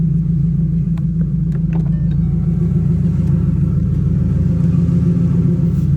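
A turbocharged 2005-2010 Ford Mustang GT 3V fitted with an ON3 turbo kit idles steadily, a loud, continuous low rumble with no voices over it.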